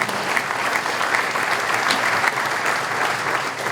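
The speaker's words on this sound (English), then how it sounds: "you can clap for him again" Steady, enthusiastic audience applause at an outdoor groundbreaking ceremony, dense continuous clapping from a crowd throughout the few seconds, with no talking over it.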